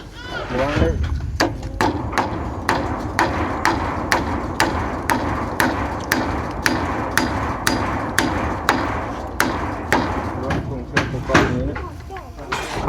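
Hammer blows pound something in tight, landing in a steady rhythm about twice a second, loud and close, while people talk throughout.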